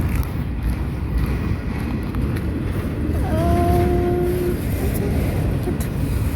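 A long freight train hauled by a Union Pacific SD-75 locomotive passes close by, a loud, constant rumble of rolling cars with a brief wheel squeal midway.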